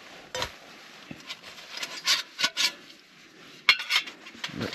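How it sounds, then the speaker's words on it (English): Metal cookware clanks and scrapes as it is handled up close, a few irregular knocks and rattles with quiet pauses between. "A frying pan."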